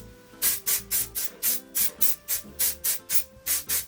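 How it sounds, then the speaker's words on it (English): A hair texture spray is sprayed in a quick series of about a dozen short hissing bursts, evenly paced and close to the listener. "This is the texture spray, which I honestly forget about always."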